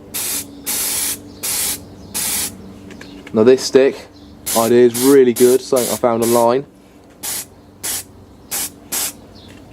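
An aerosol spray can undercoats miniatures propped on a stick and cardboard inside a spray booth, firing a series of short, sharp hissing bursts with a stretch of talking in the middle.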